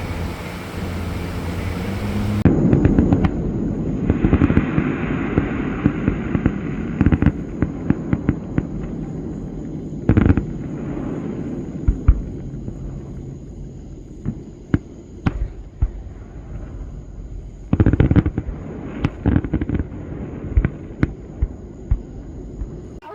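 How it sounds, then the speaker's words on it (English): Scattered booms of fireworks going off in the distance, heard from a boat, irregular pops over a low steady hum, with a few louder bursts. "we're gonna go watch the fireworks by boat tonight"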